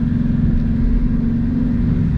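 A Ford Mustang GT with a newly installed catback exhaust gives a loud, close, steady deep rumble as the engine holds at raised revs, with no voices.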